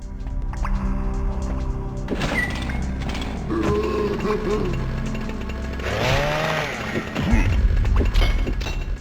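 Chainsaw enemies in the video game Nightmare Creatures II rev with a loud, buzzing motor drone alongside crashing impact hits and game effects, with a voice speaking over it.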